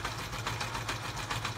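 Small sewing machine stitching a little paper picture into a handmade 1800s-ladies-style junk journal, a steady fast mechanical whirr with a faint rhythmic needle patter, close and continuous with no talking.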